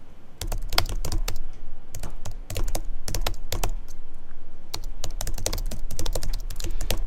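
Fast typing on a computer keyboard in InDesign, with dense bursts of crisp key clicks separated by short pauses, close and clear without any talking.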